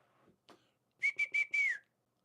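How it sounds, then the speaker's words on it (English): A loud whistle rings out in four short, sharp blasts followed by one longer held note, with a couple of faint soft sounds before it and silence after. "that's going to have whistled really loud in your ear"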